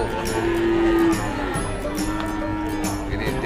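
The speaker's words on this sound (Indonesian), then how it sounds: "ada 4 ekor sapi bibitan" Breeding PO cattle at the Wirosari cattle market in Purwodadi, Grobogan, Central Java, with a long low moo near the start over a busy, noisy market background and faint voices.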